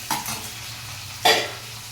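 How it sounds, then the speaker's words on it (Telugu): Tomatoes frying in a little oil, two bursts of hissing sizzle as they are stirred in the pan, loud and close with a low hum underneath. "వేసుకునేటప్పుడు మనం కొంచెం వేగేటప్పుడు మనం టమాటాలు యాడ్ చేసుకోవాలి"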